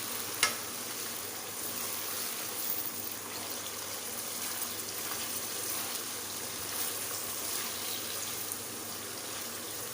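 Desi chicken pieces frying in a pan for chicken masala, turning white as they cook, giving a steady close sizzle and crackle with a sharp knock near the start and no voices.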